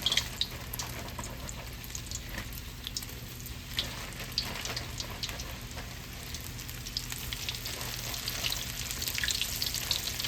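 Fresh garden vegetables, okra among them, frying in hot oil in a Southern kitchen, a soft constant crackling sizzle with faint pops, steady and moderately quiet throughout.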